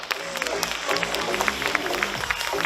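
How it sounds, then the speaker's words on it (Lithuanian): Dense clapping from a crowd in a hall at a bodybuilding competition, sustained and fairly loud, with a voice audible in the mix. "Ir audringi plojimai salėje"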